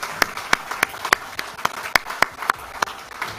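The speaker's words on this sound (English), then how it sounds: "Let's give him a big round of applause to welcome him formally." An audience claps at a formal welcome in Sydney's historic first parliament house, sparse and fairly quiet, individual hand claps landing in a loose uneven rhythm rather than a full roar.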